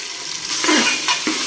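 Soya chunks fry in a pan, a loud close hiss and sizzle with the scrape of a spoon stirring through them.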